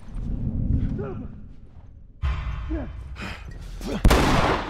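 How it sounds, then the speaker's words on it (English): Shotgun blasts in The Last of Us, a few heavy booming shots spaced a second or so apart amid game noise, close and loud, with a man's exclamations and chatter in between. "Shotgun!"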